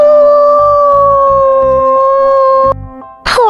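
A wolf gives one long sustained howl that holds steady and loud for nearly three seconds over a pulsing background, followed by a short burst of another sound at the end.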